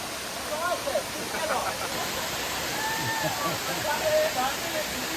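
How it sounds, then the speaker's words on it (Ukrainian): A waterfall on Penang or Langkawi island rushes steadily as a broad hiss, with distant voices and faint shouts of people bathing in the water. "А ось і водоспад з купою людей, які купаються."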